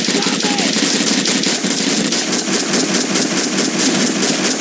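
Rapid continuous enemy gunfire in the shooter Max Payne 2, a loud, dense rattle of automatic shots in a steady rhythm, close and sustained for several seconds without a break.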